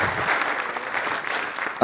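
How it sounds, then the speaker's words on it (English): A crowd at a high school Hall of Fame induction ceremony applauds steadily for a couple of seconds, the clapping fairly close and even, before a voice cuts in at the very end. "a huge round of applause for that video"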